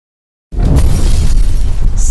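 A beaker of flammable liquid ignites after a flame gets too close, a sudden loud whoosh bursting out of silence and roaring on as a sustained, close, rumbling fire.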